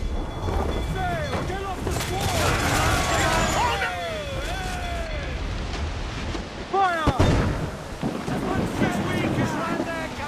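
Pirate ship cannons fire in Assassin's Creed Black Flag over wind and ocean noise, with a sharp broadside blast near the middle of the clip and people shouting throughout.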